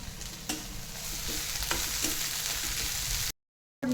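Masala paste sautés in a pan with a steady close sizzle, broken by a few soft scrapes or stirs. The sound cuts to silence near the end, then comes back briefly.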